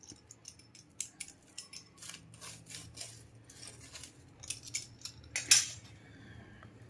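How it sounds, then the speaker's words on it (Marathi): A knife cuts through a toasted bread potato sandwich on a board, giving a series of crisp crunching, scraping strokes in short bursts with small clicks and taps between them, fairly close and quiet. "आता हे सँडविच जे आहे ते आपण कट करून घ्यायचंय"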